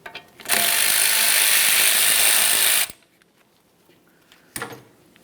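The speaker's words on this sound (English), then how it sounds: "Use a 10mm to remove the bolt." A 10mm ratchet spins out the ABS sensor bolt on a 2003-2007 Honda Accord front hub, a loud continuous buzzing whir for about two seconds, then near-quiet, then a short clicking burst near the end.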